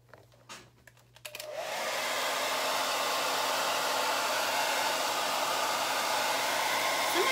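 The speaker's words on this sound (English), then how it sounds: "Let's see what happens when I hit it with the blow dryer." A hair dryer switches on after a second of faint knocking and runs steadily with a loud, constant whooshing hum to the end.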